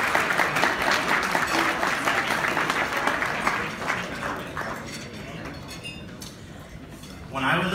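An audience at a James Beard Foundation gala applauds to welcome a speaker, dense close clapping that gradually thins out, with faint clinking of glasses and cutlery in the room.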